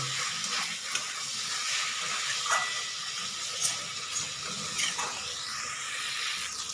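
Eggplant sautéing with spices in oil, a soft continuous sizzle and hiss with occasional stirring scrapes against the pan, fairly close and steady, no speech.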